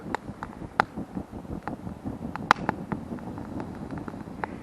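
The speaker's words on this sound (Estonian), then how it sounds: "Nii äge häält teeb tuule ja õhu liikumine ja tuli." Wood fire burning inside a log stove outdoors, with crackles and sharp pops scattered over a low rushing roar of wind and moving air, fairly close and steady, with no talk.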